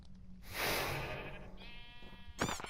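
Squeaky, bleating cries from energetic sheep in SkyFactory 5, a Minecraft modpack, rising into a burst, then a thinner tonal squeal and a brief sharp chirp at the end, fairly close and alone.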